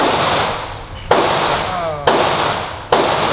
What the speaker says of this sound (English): Let me shoot one more mag.